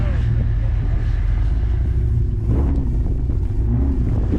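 A pit bike with a muffler delete rides through a snowstorm, giving a loud, rough, low engine rumble with wind buffeting the microphone and faint voices underneath.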